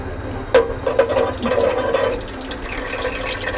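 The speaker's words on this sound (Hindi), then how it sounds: "इसमें जो मैंने चंद खड़े मसाले लिए हैं ये अब मैं इसमें डाल रही हूँ।" Whole spices hit hot oil for a chicken hariyali curry and set off a sudden loud hiss that crackles for a couple of seconds before settling into a softer sizzle.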